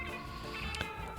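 A cat meows in the video game Mewgenics, a short, soft mew set over a constant layer of game music and ambience.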